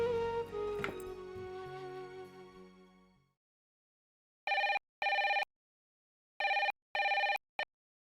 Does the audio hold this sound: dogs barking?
no